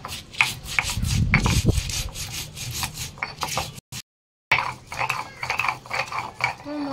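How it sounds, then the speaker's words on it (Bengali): Chilli and cumin ground by hand into a spice paste on a grinding stone, with rhythmic rough rubbing strokes that pause briefly before resuming. "এবার এর মধ্যেই একবারে মশলাও বেটে নেব।"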